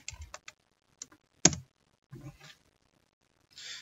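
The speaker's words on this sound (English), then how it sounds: "just wants you to type your password" A password is typed on a computer keyboard at a Linux terminal, heard as a few sparse, quiet key clicks with one sharper tap and short pauses between them.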